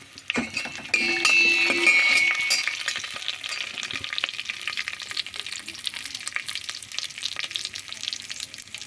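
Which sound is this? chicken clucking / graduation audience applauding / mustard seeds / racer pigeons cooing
mustard seeds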